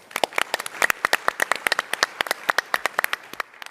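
Scattered applause at a tech startup conference, a modest number of distinct sharp claps in a quick uneven patter, close and fairly clear, lasting a few seconds.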